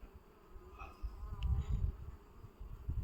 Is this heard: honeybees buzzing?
yes